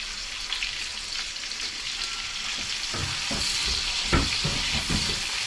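Shallots and garlic fry in a pan, a steady close sizzle with a few louder crackles and stirring bursts toward the end, no voices.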